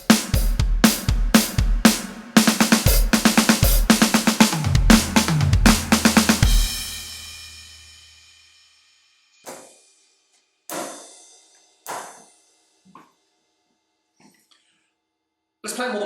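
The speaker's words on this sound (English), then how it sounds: "see if you can stick these 2 drum fills back to back" An acoustic drum kit plays a steady beginner-level groove, then runs two fills back to back into a ringing crash that decays, followed by a few scattered, spaced-out hits near the close.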